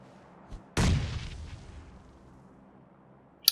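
A grenade goes off in the PUBG Mobile battle game, one loud sudden blast that rumbles and fades over a couple of seconds, with a faint pop before it and a sharp crack at the very end.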